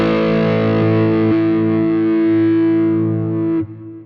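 Distorted electric guitar with humbuckers played through a Boss GT-1000 with a boosted 315 Hz EQ band. A loud, sustained distorted chord rings out with a few re-picked accents, then cuts off near the end.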